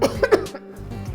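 A person gives three quick, loud coughs close by, then pauses, with a soft throat sound at the end.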